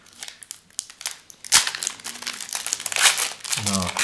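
Crinkling and tearing of a foil wrapper on a 2022 Upper Deck CFL football card pack, a quiet start building into loud, continuous close-up rustling with a short burst of speech near the end.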